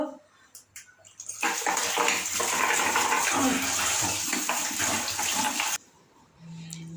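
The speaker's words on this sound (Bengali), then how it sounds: "আর বন্ধুরা বাসন কটা বেরিয়েছিল সেগুলোকে একটু মেজে ঘষে নিয়ে ধুয়ে নেব।" Dishes get scrubbed and rinsed under a running tap at a home sink, a loud steady gush of water lasting several seconds, with faint clinks and splashes before and after.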